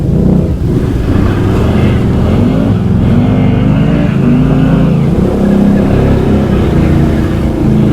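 Can-Am Outlander 650 XMR ATV with extended swing arms and an aftermarket exhaust, its engine revving loudly and roughly while churning through deep mud, close and continuous with a low droning rumble.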